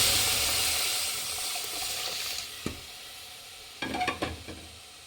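Lentils tipped into a pan of pepper frying in oil for pepper sambar, stirred with a few scraping clatters and a soft sizzle, close and fairly quiet, with no talking.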